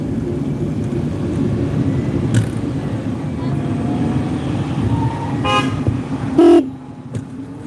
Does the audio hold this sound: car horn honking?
yes